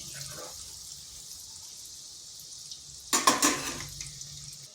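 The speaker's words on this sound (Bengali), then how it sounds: "এগুলোকে হালকা করে একটু নেড়ে নিচ্ছি আর এগুলোকে খুব বেশি ভাজবার নেই" Chushi pitha, thin hand-rolled dough pieces, fry quietly in a pan with a soft, steady hiss, then a short burst of scraping and clattering as they are lightly stirred.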